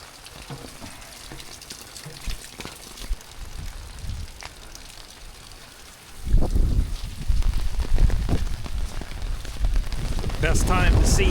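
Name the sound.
heavy rain falling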